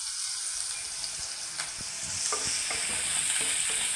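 Shallots and curry leaves sauté in a pan of oil, giving a steady, close sizzle broken by scraping stirs that grow more frequent toward the end.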